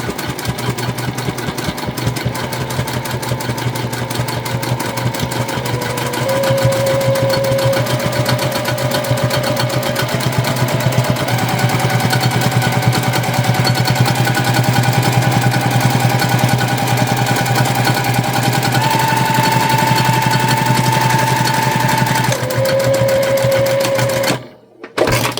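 A sewing machine runs steadily, stitching a line through fabric and batting panels for a hair tool bag, a continuous loud mechanical whir with a brief stop near the end.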